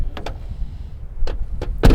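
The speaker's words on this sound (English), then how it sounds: "Doors open and close." A truck cab door is opened and shut during a pre-trip inspection: a few sharp clunks and latch clicks spaced apart, ending in a loud, close slam.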